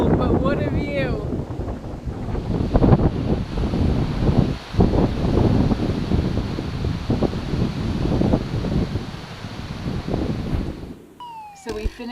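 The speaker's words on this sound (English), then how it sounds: "It's windy and cold" Wind buffeting the microphone at a Blue Ridge Parkway overlook in Virginia at sunset in autumn, a loud steady rushing roar throughout, with a person talking over it.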